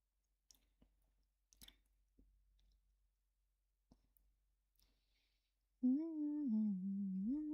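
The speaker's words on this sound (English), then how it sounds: "And I'm munching on popcorn." Quiet, sporadic crunching and clicking of someone chewing popcorn, a few soft isolated bites close to the mic, followed by a sustained hummed or sung tone at the end.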